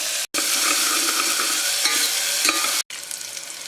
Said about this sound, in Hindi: प्याज को हम लाइट गोल्डन ब्राउन होने तक अच्छी तरह से इसे फ्राई करेंगे।